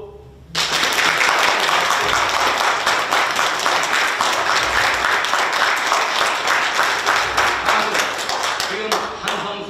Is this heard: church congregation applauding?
yes